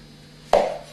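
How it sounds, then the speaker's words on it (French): One crisp knife cut through peeled mushrooms lands on a board, a quick close thud with a short fading tail, alone against a faint steady hum. "mes champignons épluchés vont ensuite être"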